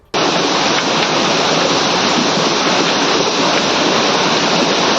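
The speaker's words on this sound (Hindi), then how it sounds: "पहाड़ों से तबाही की शक्ल में मटमैला पानी तेजी से बहता नजर आया।" Muddy floodwater rushes down from the mountains during heavy rain and flooding, a loud, continuous roaring torrent that fills the whole clip without pause.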